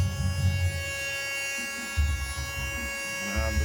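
A small electric motor of a portable vacuum cleaner used as a blower whirs with a steady high-pitched whine and low rumbling airflow, running continuously at close range.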